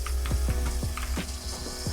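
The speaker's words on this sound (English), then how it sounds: "As a third player approaches, I hear them charging up the shotgun" A combat shotgun is charged up in the Fortnite video game, heard as a rapid string of crisp mechanical clicks and ratcheting ticks at a steady rhythm over a constant low background hum.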